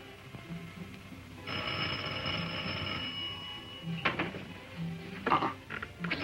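A telephone rings in a few short bursts, with soft background noise and clatter between rings.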